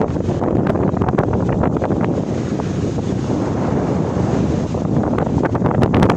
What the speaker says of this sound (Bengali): গর্জন এভাবেই শোনা যাচ্ছে, কারণ সমুদ্র এখান থেকে বেশি দূরে না